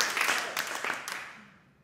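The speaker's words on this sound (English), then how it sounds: "Come on, clap right here and just thank God." A church congregation claps together in a short burst of applause that fades out quickly, heard close and fairly loud with no talk over it.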